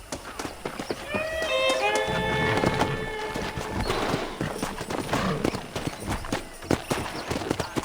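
Horse hooves clip-clopping in Red Dead Redemption, a quick, steady run of hoof strikes close by, with a brief whinny early on and no talk over it.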